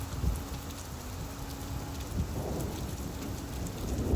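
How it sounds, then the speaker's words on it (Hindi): Heavy rain pours steadily in a cartoon scene, a dense continuous hiss with low rumbling underneath and no voices. "वे सब तेज बारिश में रूपा के घर पहुंच जाते हैं"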